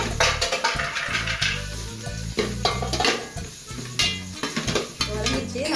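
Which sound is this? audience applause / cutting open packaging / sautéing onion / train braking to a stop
sautéing onion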